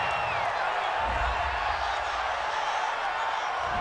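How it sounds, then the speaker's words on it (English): Broad roar of an American football stadium crowd reacting to a penalty call in an NFL game between the Minnesota Vikings and the Detroit Lions, a steady wash of displeased noise from thousands of fans, with a voice talking over it. "this crowd does not like that call"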